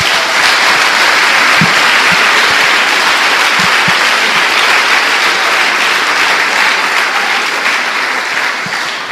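A church congregation applauds Jesus at a Portuguese-language worship service, dense steady clapping filling the room from start to finish, with a few low thumps scattered underneath and a slight fade near the end.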